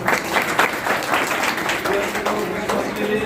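Audience applauding at a certificate and medal ceremony held in a village council office, a steady crowd of clapping at even loudness throughout, with voices mixed in.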